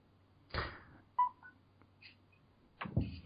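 A phone gives off a few short electronic beeps and tones, spaced apart and fairly quiet, with brief thumps of handling around them.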